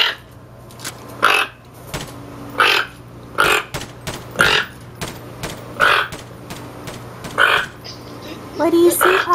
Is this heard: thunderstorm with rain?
no